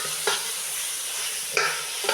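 Beef browning in a pot for yakhni biryani, a steady frying hiss with three brief scraping stirs of a spoon against the pot, close and alone.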